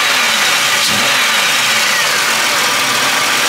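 The 3100 V6 of a 2000 Buick Century runs steadily at close range, a continuous loud mechanical hum and whir with a small blip about a second in and no talking.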